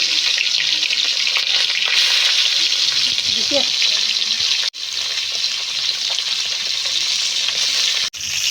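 Fish sizzles as it fries in hot oil in a heated wok during a village vegetable curry preparation, a steady dense hiss running throughout with brief drops, close and loud.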